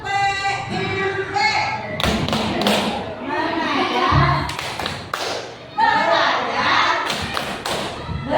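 A group of women performing the Tepuk PMP clapping chant at a primary school gathering, a rhythmic series of sharp claps interleaved with chanted and spoken voices.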